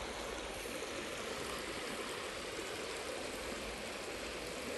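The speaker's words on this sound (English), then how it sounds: "put a little water out of there. It's too much water." Water spills and splashes steadily out of a gold prospecting pan, a continuous close, full-band rush and trickle with no pauses and no voices.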